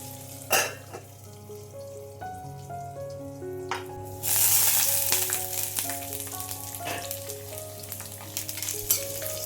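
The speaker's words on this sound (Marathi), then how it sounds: "कांदा छान परतला आहे" Onions sizzle and crackle steadily in a small amount of hot oil in a pan for a spicy tari misal, a continuous frying hiss with occasional stirring scrapes beneath faint background music.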